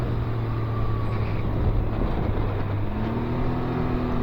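A Can-Am Ryker three-wheel motorcycle hums steadily while riding on a mountain road, with a low, constant engine drone and wind rush throughout and no break in the sound.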